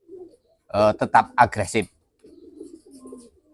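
Racing pigeon giving soft, low coos that come in short runs at the start and end, while someone speaks loudly in the middle.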